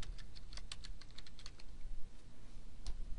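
Quick, light clicks of a computer keyboard as a short profile name is typed, a brisk run of keystrokes with a few brief pauses, close and fairly quiet with no voices.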